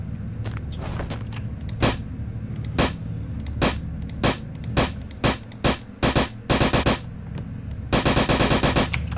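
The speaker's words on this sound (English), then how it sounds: "let's get the AK going" An AK rifle fires in the video game Way of Hero, with sharp single shots and short rapid bursts that grow denser toward the end, loud and close.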